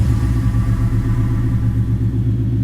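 A hot rod car's engine idles with a loud, steady low rumble and lumpy revving pulses, close by in a parking lot, with no voices over it.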